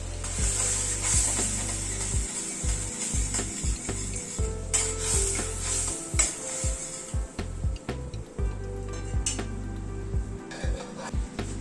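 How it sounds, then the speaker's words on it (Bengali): Mustard paste mixed with water, salt and Kashmiri red chili powder being stirred in hot oil, with close scraping and knocking of a spoon against the pan over a soft sizzle. "সর্ষের জলটা দিয়ে কিন্তু একটু নাড়াচাড়া করে নিতে হবে।"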